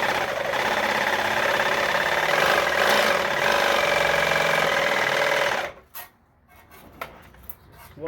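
A power tool cuts metal at low-medium speed on a broken scraper blade from a Massey Ferguson TO35 tractor, with WD lubricant as coolant: a steady, loud grinding whine for several seconds that stops abruptly, followed by scattered clatter and knocks.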